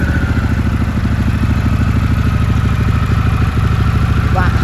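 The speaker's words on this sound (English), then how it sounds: "has a very untypical but typical Harley burble to it" A Harley-Davidson Pan America 1250 Special motorcycle engine idles nearby with a loud, steady, lumpy burble, its rapid pulses continuing throughout.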